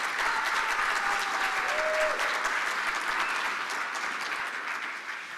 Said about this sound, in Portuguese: Bom, obrigado, galera. Palmas.